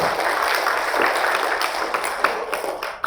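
An audience applauds at an Islamic Maulid lecture, giving a continuous wash of clapping from a crowd that fades slightly toward the end.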